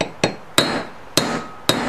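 Four sharp, loud hammer strikes ring out on metal flat stock being bent into a wedding ring, evenly spaced with a short metallic ring after each blow and no talking.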